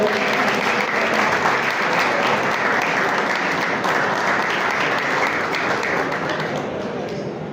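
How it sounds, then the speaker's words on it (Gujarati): Students at a college annual function in Visnagar give loud, sustained applause from a large crowd, a dense roar of clapping that fades slightly toward the end. "જોરદાર તાળીઓના ગડગડાટ ચાલુ રાખશો વિદ્યાર્થી મિત્રો."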